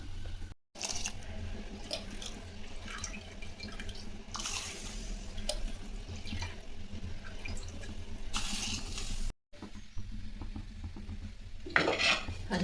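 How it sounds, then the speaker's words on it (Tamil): Ration rice is tipped into a pot of boiling water, with metallic clinks of the vessel and utensils, watery sloshing and short bursts of pouring, heard close and fairly quiet with brief silent gaps. "அரிசி உலையில் போட்டோம்."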